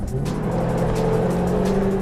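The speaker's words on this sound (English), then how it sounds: "Next thing you notice is that exhaust. It's actually obnoxious." Throaty exhaust drone from a fast car with an automatic transmission, heard from inside while driving: a loud, continuous engine rumble holding steady and slowly rising in pitch, with no talk over it.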